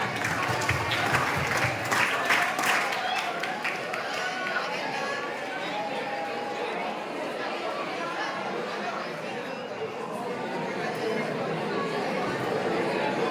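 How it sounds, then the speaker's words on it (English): Class 10 high school students clap together in a hall during a talk, a burst of rapid applause near the start fading into crowd chatter and shuffling, with an adult speaking over it. "Give 3 chair clap for second session now."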